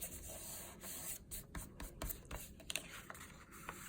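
Soft, scratchy rubbing of a paper craft piece made from book pages, pressed and smoothed by hand, close and quiet with uneven strokes.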